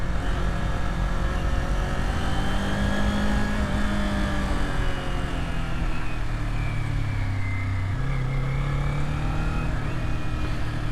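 A Kawasaki Z400 or Yamaha Tracer 900GT motorcycle rides through corners on a scenic road, its engine droning loud and continuous with pitch rising and falling as it shifts and rolls through bends, under steady wind rush.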